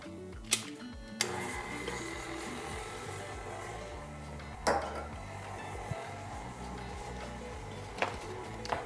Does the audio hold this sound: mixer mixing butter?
yes